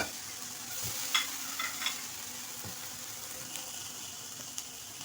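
Mixed vegetables stirred and tossed in a pan with oil, a soft steady sizzle under scattered scraping clinks of the spoon, close and moderately quiet with no voices.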